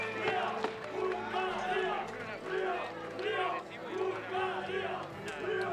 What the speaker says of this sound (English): some good support there from the crowd for the Hungarian team